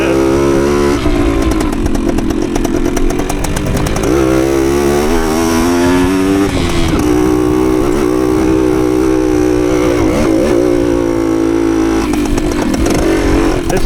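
The two-stroke engine of a 1972 Suzuki TS185 dirt motorcycle revs and putters continuously up close, rising and falling in pitch as it is ridden, with no talking.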